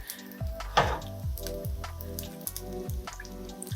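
Water splashes into yakisoba noodles frying in a pan, giving a sharp crackling burst followed by repeated sizzles and pops from the hot pan.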